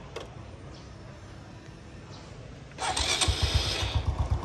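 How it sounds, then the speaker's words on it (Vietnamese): A 2008 Honda Wave 125i motorcycle starts up after a quiet stretch, then its exhaust runs in a close, steady, clean-sounding idle with a quick rhythmic pulse. "mọi người nghe cái tiếng bô nè, nghe nó rất là thanh nha."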